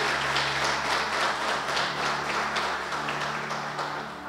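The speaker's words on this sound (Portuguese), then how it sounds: "Aplauda ao Senhor, isso é maravilhoso" A church congregation applauds in praise, a dense, steady wash of many hands clapping that holds for several seconds over a low hum before easing slightly at the end.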